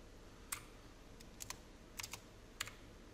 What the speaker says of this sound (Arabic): احنا راح نكتب يوتيوب بالانجليزي طبعا وليس بالعربي